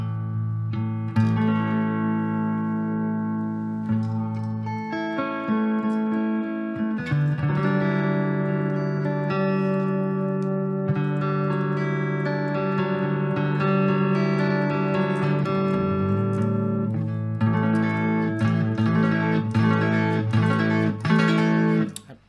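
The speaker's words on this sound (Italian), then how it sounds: "è il suono di un Marshall valvolare" A clean electric guitar tone runs through a Marshall JMP-1 preamp into a small Marshall Origin 5 tube combo, sounding dark and warm. Sustained chords and arpeggiated notes ring out continuously and loud, with no talking.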